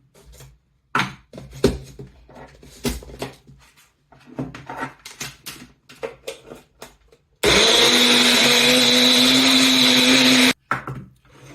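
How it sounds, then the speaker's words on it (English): A countertop blender whirs loudly and steadily for about three seconds as it blends a homemade facial treatment mixture. Scattered clatters and handling knocks come before it, and a click follows as it stops. "I'm going to blend it now."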